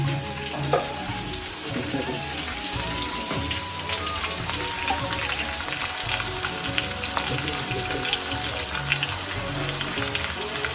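Chicken and whole spices sizzle steadily in a hot pan while a feast is cooked in Mithila, with a constant crackling fry and small pops throughout.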